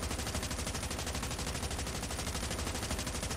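Automatic gunfire from Call of Duty Mobile rattles in a rapid, even stream of shots for the whole stretch, loud and continuous with no pause or talking.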